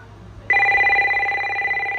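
RadioShack 43-1704 two-line cordless phone ringing, a sudden loud electronic warbling ring that starts half a second in and holds steady, close and clear.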